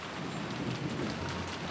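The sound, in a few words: rain in the video game Umineko When They Cry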